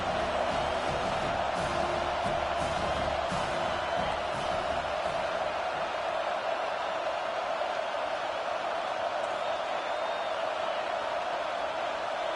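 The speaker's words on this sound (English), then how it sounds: "this crowd coming to life here, trying to help the defense get a stop with the offense pinned back" At a college football game between USC and Notre Dame, a large stadium crowd sends up a steady, distant roar that swells slightly as the home fans try to help the defense get a stop.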